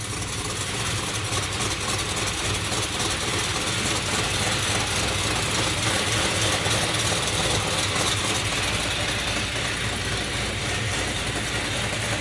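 Dodge Challenger engine running steadily, a continuous close and loud idle with a constant low rumble and even mechanical roar, no revving or talking.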